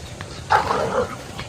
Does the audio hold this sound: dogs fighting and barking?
yes